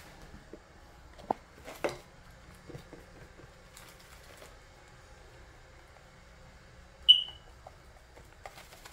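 A home smoke alarm gives a single short, high-pitched chirp at about the seven-second mark, loud against quiet kitchen background noise with scattered clatter and no talking.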